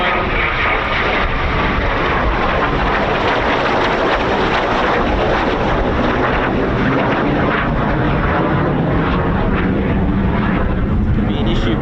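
A Eurofighter Typhoon FGR4 jet performs a go-around at an RAF station, a loud, dense, continuous jet roar holding steady throughout with a harsh broadband rush, fairly close and heard without talk.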